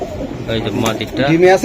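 Pigeons offered for sale, including Pakistani and racer breeds, coo softly in a brief burst beneath someone talking close by.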